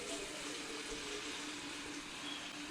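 A tap runs water into a sink while home-brewing beer, a steady, soft, continuous hiss that holds evenly throughout with no voices.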